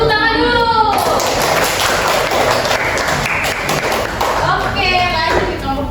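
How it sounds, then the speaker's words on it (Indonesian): A classroom group of students claps for a presenting group, a dense burst of applause in the middle that swells and fades, with a teacher's voice speaking before and after. "Tepuk tangan dulu."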